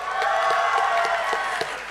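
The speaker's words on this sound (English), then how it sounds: "A huge round of applause for Mizoram." A large crowd at the closing ceremony of the Northeast Games 2024 in Nagaland applauds and cheers, a continuous dense roar of clapping with scattered sharp claps throughout.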